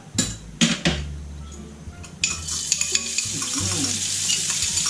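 Chili and garlic stir-fried in a pan for a squid basil (kaphrao) dish, giving a steady close sizzle with scraping stirs and a few metallic clinks of utensil against pan, building louder over the last seconds.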